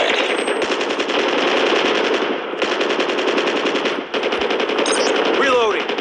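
A sentry gun in the Call of Duty Mobile video game fires loud, rapid, continuous automatic bursts at close range, broken by two brief pauses, with a faint whine near the end.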